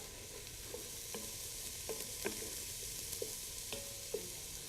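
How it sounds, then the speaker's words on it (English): Onions sauteing in a pan for a plant-based soup, a faint, even sizzle with light, scattered clicks and scrapes of a utensil, quiet and somewhat distant. "Just going to saute those onions"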